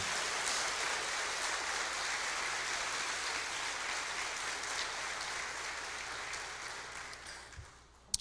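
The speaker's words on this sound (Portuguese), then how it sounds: "Vamos aplaudir ao Senhor por esta palavra." A church congregation at a formal Sunday morning service applauds in a long, even wash of clapping that slowly fades near the end and finishes with a single sharp knock.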